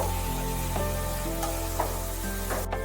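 Softened bottle gourd sizzles steadily in a hot pan as it is stirred, a continuous frying hiss with occasional soft scraping, no talking.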